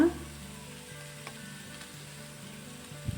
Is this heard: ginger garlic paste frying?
yes